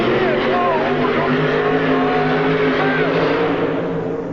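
A tractor pull engine roars hard and steady as the puller leaves the line with tires locked in at the 1986 TNT Indy Super Pull, loud and sustained with an announcer talking over it.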